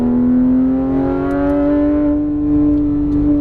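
A Porsche GT3 RS 991 at full throttle on a race track gives a loud, close, steady engine howl whose pitch climbs slowly as it accelerates.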